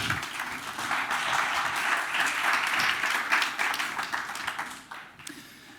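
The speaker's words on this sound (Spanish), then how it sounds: "Un aplauso para él y arrancamos." A conference audience applauds a speaker at a food creativity talk, loud sustained clapping that swells, holds and then tapers off into a few scattered claps near the end.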